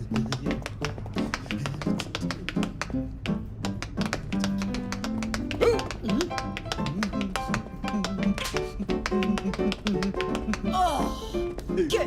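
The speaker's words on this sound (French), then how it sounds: "C'est le bruit des chaussures qu'on entend depuis le départ." Tap dancing shoes in a cartoon clatter in quick, dense bursts of taps throughout, mixed with music and voices talking.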